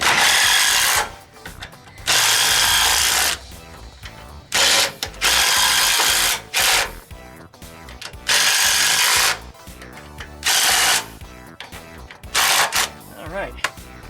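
A cover being tightened on a spring plate of a 1967 VW Bus, a power tool or ratchet running in repeated loud bursts of about a second each, with pauses between them.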